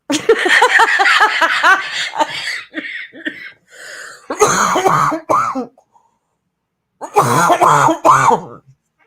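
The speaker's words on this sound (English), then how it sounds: "I triggered a coughing fit. Sorry." A close, loud coughing fit with repeated harsh coughs and throat clearing in bursts, separated by brief pauses.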